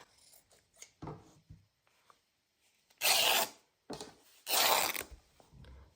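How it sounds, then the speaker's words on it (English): Scissors trim the white edge off a sheet of paper for a junk journal: a few soft snips, then two long, loud, close rasping cuts separated by a short pause. "So I'll first cut off this white edge."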